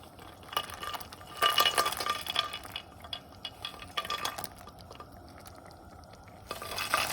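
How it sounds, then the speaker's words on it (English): Vada curry bubbles and sizzles in a pot at close range, with uneven bursts of bubbling and occasional soft clinks, no voices. "Now if you look at this, the water is boiling inside."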